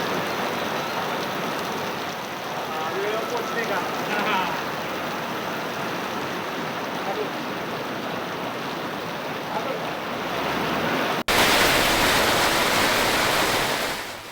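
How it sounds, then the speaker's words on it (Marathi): Heavy rain driven by stormy wind in Pune, a continuous dense hiss and patter close by that holds steady throughout and swells louder near the end. "या वादळी वाऱ्यासह पावसाने नागरिकांची चांगलीच तारंब उडालेली आहे"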